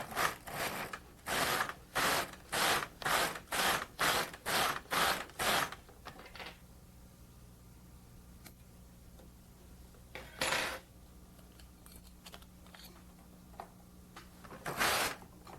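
A Brother LK150 knitting machine carriage knits scrap yarn, sliding across in about ten quick rhythmic mechanical passes, then a couple of isolated passes after a pause, close and clear with no talk.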